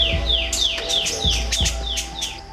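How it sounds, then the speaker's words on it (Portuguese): Birds singing in an Atlantic Forest nature reserve in coastal Paraná, Brazil: a run of clear, repeated descending chirps and whistles, close and fairly loud, with low rumbling background. "hoje os pássaros cantaram lindamente"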